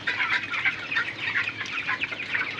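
A crowd of broiler chickens suffering in hot weather clucks and chatters continuously, many overlapping calls at a steady busy rhythm, close and fairly loud.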